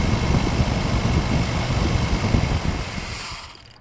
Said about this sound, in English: So we're gonna give it a little rev.